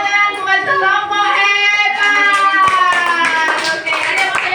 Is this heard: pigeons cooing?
no